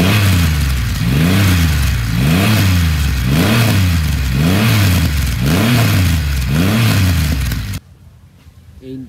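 A Triumph Rocket 3 R motorcycle engine revs repeatedly through a loud aftermarket Zard exhaust, rising and falling in steady rhythmic pulses, then drops off sharply near the end.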